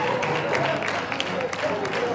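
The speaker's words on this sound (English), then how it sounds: "Clap your hands for Mr. James." A church congregation claps its hands together, a dense, steady patter of many palms that runs the whole time, mixed with voices.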